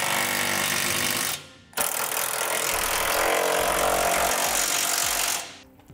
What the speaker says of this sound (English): Now we'll tighten down all of our hardware.